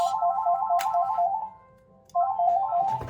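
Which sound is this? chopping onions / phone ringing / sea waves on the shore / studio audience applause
phone ringing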